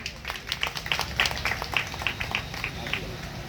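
An audience claps to welcome a guest at a Shiv Durga temple event, giving steady, moderately loud applause with individual claps distinct, while a voice talks over it.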